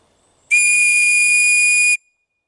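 An OEX survival whistle, blown during a game of hide and seek, gives one loud, sustained, piercing shrill tone lasting about a second and a half. It starts and stops abruptly against near silence.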